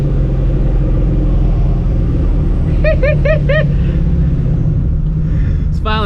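A 500 hp Procharged 4.6 2V Mustang GT drives along with a steady, loud low engine drone and road rumble heard from inside the car. A brief series of chirping tones sounds partway through, and a voice briefly appears near the end.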